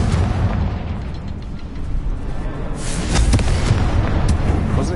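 A Confringo fire spell explodes in Hogwarts Legacy: a loud, rumbling blast that swells partway through and holds as a heavy, sustained roar with crackling bursts, and no voices.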